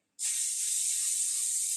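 A single sustained spray of cooking spray onto tin foil hisses steadily for about a second and a half after a brief silence, close and loud.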